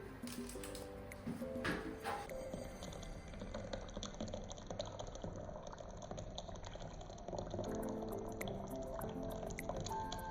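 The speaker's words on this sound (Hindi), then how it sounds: "अब मैं इसमें सिर्फ हॉट वाटर मिक्स करूँगी।" Hot water is poured into a cup of Nescafe All in One instant coffee, making a steady liquid fill under a continuous background hum, with a few faint clinks and no talking.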